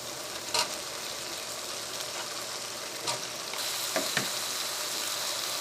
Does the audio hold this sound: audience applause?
no